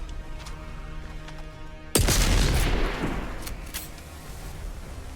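A gun fired at an object in the video game Starfield: a single sharp, loud blast followed by a crackling, rumbling tail that fades over a few seconds against a steady background hum.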